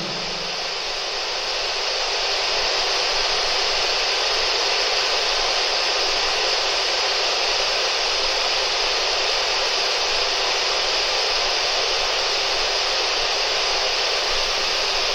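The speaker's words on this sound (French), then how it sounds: "L'appareil que je tiens dans la main, qui émet un bruit, ce petit bruit blanc que vous entendez" A handheld ghost-hunting device gives off steady, even white-noise hiss, loud and close, running unbroken for the whole stretch with no voices over it.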